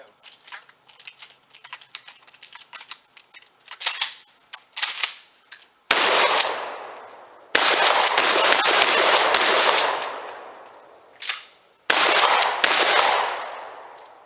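Shotgun blasts fired in quick succession during a speed-reload race, sharp loud reports with bursts of echoing noise and short gaps for loading, preceded by mechanical clicks and handling.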